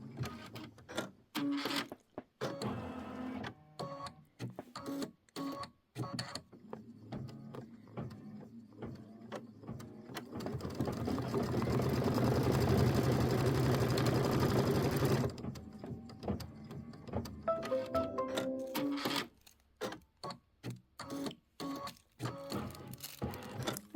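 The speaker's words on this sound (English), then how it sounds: "let it stitch, stop the machine, pull it off" A sewing machine stitches a Kimberbell quilt in a long run of rapid, close mechanical chatter, broken by stops, clicks and short rustling pauses, with a steadier sustained stretch in the middle.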